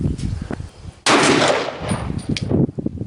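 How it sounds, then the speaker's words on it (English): A Glock 34 firing Federal HST 9mm rounds lets off one sharp, loud report with a ringing decay, followed by a fainter second crack against quiet outdoor background. "we got our Federal HSTs in the Glock 34"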